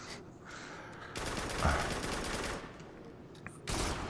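Gunfire in the VR shooter Farpoint, played in co-op on PS4 Pro in a cryo DLC level, with several bursts of shots of moderate loudness, the heaviest around the middle and another near the end.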